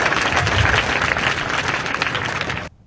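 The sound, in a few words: audience applauding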